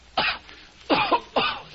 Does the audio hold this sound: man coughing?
yes